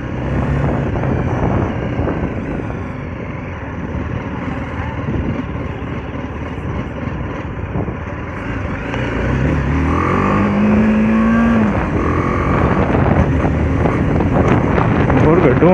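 A rider on a BMW G310 GS motorcycle moves at speed, with a loud, steady rush of wind and road noise over the engine drone throughout, while the rider talks.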